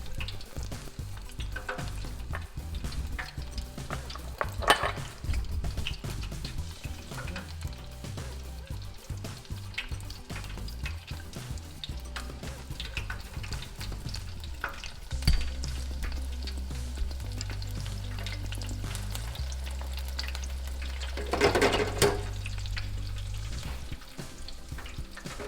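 Oil in a deep fryer set to 350 degrees in a sushi kitchen bubbles and hisses continuously, a fairly soft, steady sizzle with occasional stirring clatter, a low hum and a faint running-water sound, without talk.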